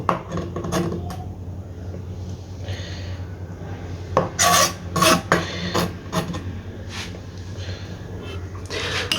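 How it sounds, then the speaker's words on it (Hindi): A spoon stirs chopped jalapeños into mayonnaise for a burger sauce, producing soft scraping and clinks against the bowl that grow busier and louder midway through. "अब इसको भी अच्छे तरीके से इधर मिक्स करना है।"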